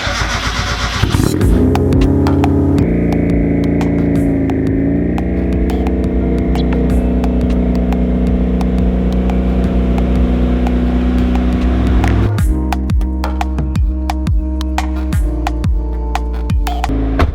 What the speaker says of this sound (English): Let's go drive the car without the airbox on.